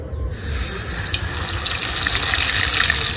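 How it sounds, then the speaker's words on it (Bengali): Kachki fish fritters dropped into hot oil, frying with a steady, loud broadband hiss and crackle that starts abruptly and continues without a break. "এবার মাছের আমি বড়াগুলো আমি এক এক করে ছেড়ে দেব"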